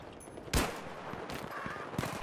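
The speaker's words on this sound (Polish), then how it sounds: "Pięknie z Magnuma, jeden strzał i leży." Gunfire in the Battlefield 3 multiplayer video game, including a Magnum revolver shot: a sharp blast stands out against steady battle noise, with further shots following over roughly two seconds.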